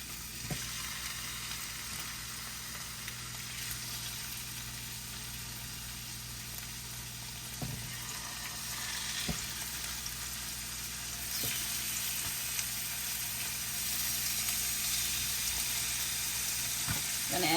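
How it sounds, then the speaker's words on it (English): Pork medallions and peppers sizzle in a hot pan, giving a steady, close frying hiss throughout, with occasional light clicks and taps of a utensil against the pan and no talking. "We're going to add the pork and the peppers into the hot pan."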